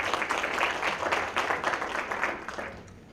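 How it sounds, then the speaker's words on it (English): An audience at a college grant ceremony breaks into dense, steady applause that builds and then fades out toward the end, with no talking over it. "we can give him a round of applause"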